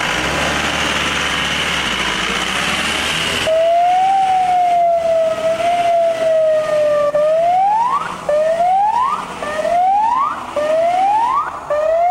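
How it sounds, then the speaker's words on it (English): A loud rumble cuts off, then a police car siren wails steadily before switching to a rapid repeating whoop, close and loud, during a SWAT training exercise in Argentina. "Oh, sirens, lights and sirens."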